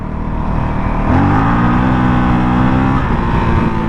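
A Honda CRF450 dirt bike engine revs hard as the rider takes a roller on a trail. A loud, close, continuous roar rises in pitch midway, holds, then eases off.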